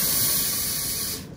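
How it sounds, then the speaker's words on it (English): A steam iron blasts a steady, loud hiss of steam while pressing double-sided Peltex stiffener for a decorative stitched book cover, then cuts off abruptly near the end. "And this double-sided Peltex seems to like some steam. So I'm giving it some steam."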